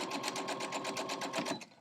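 A sewing machine stitches quarter-inch seams on quilt star block pieces, running in a steady fast rhythm close by and alone, then stopping near the end.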